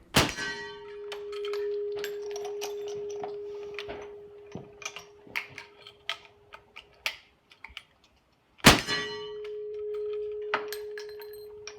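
A 415-grain bullet pushed by about 60 grains of FF black powder from an 1874 Sharps carbine strikes a steel target, giving a sharp metallic clang that rings on. A second loud clang follows later, with scattered small ticks between.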